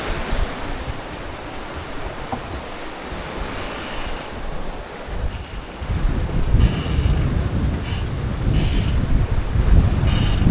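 Creaking and knocking noise from the boom on a Lagoon 51 catamaran during an Atlantic crossing with trade wind waves, mixed into steady wind and surf roar that grows louder midway.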